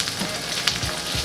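A cabbage pancake (okonomiyaki) fries in a pan on high heat, producing a constant loud, close sizzle with small pops.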